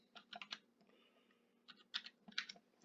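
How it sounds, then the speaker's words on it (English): Keys tapped on a computer keyboard in short bursts of quick clicks with a brief pause midway, close and quiet with no talking. "we're just going to type in Twinkle."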